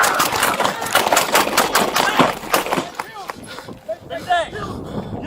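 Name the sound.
gunshots fired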